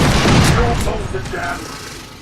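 Gunfire in the video game Space Hulk: Tactics, a loud close burst of rapid shots fading over about two seconds.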